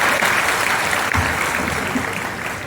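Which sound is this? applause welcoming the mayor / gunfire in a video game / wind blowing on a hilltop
applause welcoming the mayor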